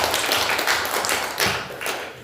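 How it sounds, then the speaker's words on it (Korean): Audience applause at a public debate forum in Jeju: a dense, steady wash of many hands clapping together, loud and continuous throughout with no voices. "박수 한번 주세요."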